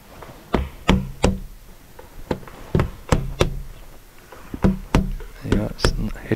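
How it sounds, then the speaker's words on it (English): Sharp, close knocks of a glazing bead being tapped into a UPVC double glazing window frame, a dozen or so hollow plastic taps in an uneven rhythm, with a voice in the background. "Nice little tap, top and bottom,"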